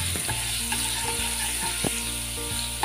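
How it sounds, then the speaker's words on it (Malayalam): Ginger garlic paste sautés in a pan for a prawn roast, a steady hissing sizzle under a low mechanical hum, with a few soft stirring taps, close and constant, no talking. "ജിഞ്ചർ ഗാർലിക് പേസ്റ്റ് പച്ചമണം മാറുന്നത് വരെ നന്നായിട്ട് സോട്ട് ചെയ്യുക"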